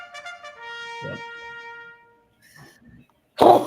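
A single sharp, loud sneeze bursts out abruptly at the very end, following a stretch of quiet tones and faint noises.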